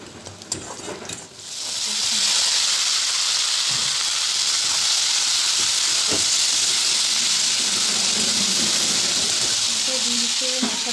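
Peas with turmeric and salt frying in a pan, a loud steady sizzle rising after a brief quieter start, with faint stirring scrapes underneath and no talking.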